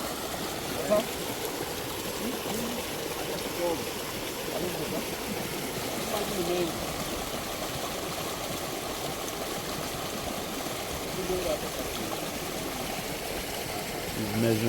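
Water pours out of a fish pond in Kenya as an even, broadband rushing flow that holds at a constant level throughout, with a faint low hum beneath and occasional small voice-like traces.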